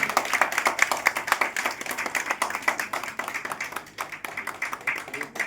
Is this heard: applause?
yes